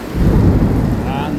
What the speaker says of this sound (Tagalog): Yan, makulog.